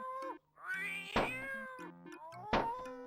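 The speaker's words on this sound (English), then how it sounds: "Hush up, kitty!" Cat meowing in the King's Quest VII video game, two or three drawn-out, high-pitched meows heard clearly and close, over soft game music with no speech.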